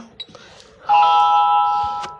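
Home alarm panel chiming as the alarm is being set, a bright sustained two-tone electronic chime ringing close and loud for about a second after a few faint knocks.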